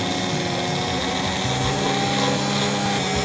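Flour and warm milk are beaten by an electric mixer on its lowest speed, a loud, steady motor whir with a constant drone throughout and no talking.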